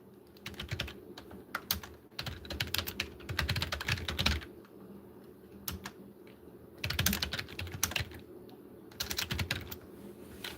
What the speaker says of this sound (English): I'll type that in and pin the comment.